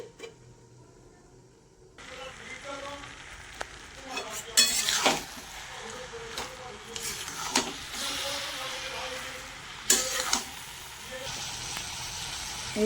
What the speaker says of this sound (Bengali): এবার ভালো করে নেড়ে চেড়ে চাপা দিয়ে দেবো